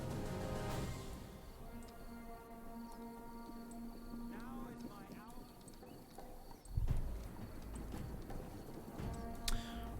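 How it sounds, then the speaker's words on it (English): Horse archers' hooves clip-clop in a Roman-era strategy game, a busy rhythmic clatter of many hooves with an occasional whinny, layered with battle ambience and game sounds under a talking voice. "let's send the horse archers up to do a little bit of scouting"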